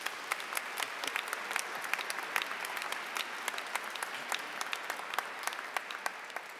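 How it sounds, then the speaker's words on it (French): A church congregation applauds during a seventh Sunday of Easter service, a sustained, even patter of many hands clapping at moderate distance with scattered sharper claps standing out, and no voices over it. "Applaudissons pour elle."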